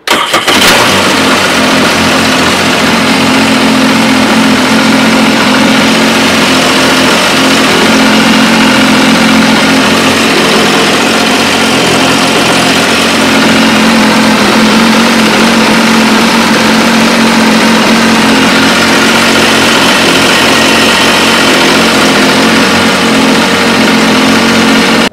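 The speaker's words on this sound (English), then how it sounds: "All right, this is the port engine." The port engine of a 2004 Sea-Doo 200 Speedster boat cranks to life and then idles loudly and steadily for a long stretch, a close, constant droning rumble with no voices over it.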